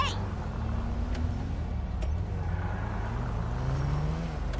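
A taxi's engine hums in a low, steady drone, heard from inside the car at a moderate level with faint background voices.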